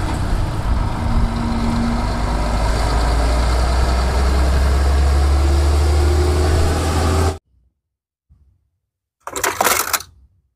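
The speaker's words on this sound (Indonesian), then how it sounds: "lihat di sini ada mobil derek." A tow truck's heavy engine idles loudly nearby with a deep, steady rumble, then cuts off abruptly, followed by silence and a brief burst of noise.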